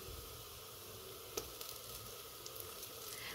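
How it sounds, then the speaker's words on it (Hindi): Ginger garlic paste sizzling in a hot clay pot for chicken kunna, a faint steady frying hiss with a few small pops and crackles; no talk. "अब मैं डालूँगी इसमें अदरक लहसुन का पेस्ट 1 चम्मच।"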